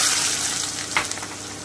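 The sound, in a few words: sliced onions frying in hot oil for birista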